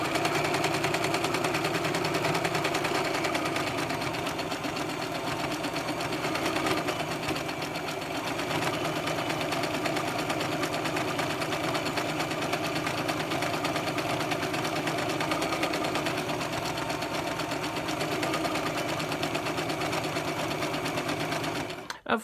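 A sewing machine straight-stitches a seam through fabric for baby wipes, running continuously with a dense, steady mechanical whir and rapid needle clatter throughout, close and fairly loud, with no pauses.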